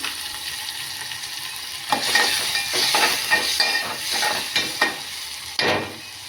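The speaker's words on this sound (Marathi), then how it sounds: "तर आता टाकूया आपण कांदा आणि टोमॅटो. आणि ह्याला आता छान शिजवून घेऊया आपण." Onion and tomato hit a hot pan for spicy Indian-style Maggi noodles: a steady background hiss jumps into loud sizzling, with repeated scraping stirs and bursts of crackle, nearby and without speech.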